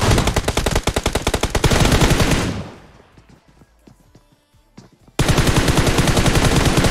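Rapid, loud automatic gunfire in PUBG Mobile, a dense burst running about two and a half seconds, a brief quieter gap with scattered small shots, then another sustained volley, with no talking.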